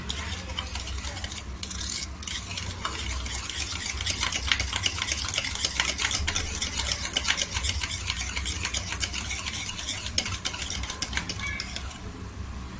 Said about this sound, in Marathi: ही पिठी साखर आहे ना त्याच्यामध्ये मिक्स करायची तेलामध्ये, चांगली अशी पिटून घ्यायची